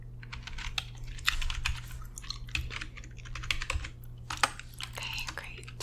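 Close, quiet typing on a computer keyboard in a receptionist roleplay, a steady patter of soft key clicks in uneven bursts over a low hum, with faint mouth sounds between.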